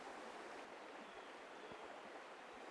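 The North Branch, a small brook, flows with a steady, broad rushing of water, constant and fairly quiet, with no voices over it.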